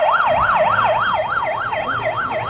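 A wailing police car siren in the Roblox game Brookhaven arrives, sweeping steadily up and down in a regular cycle, loud and continuous over a low background rumble.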